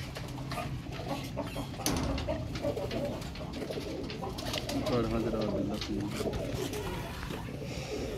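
Teddy pigeons, a crested breed kept by a Sialkot breeder, cooing in a steady, mid-loud murmur of overlapping calls, with someone talking over them throughout.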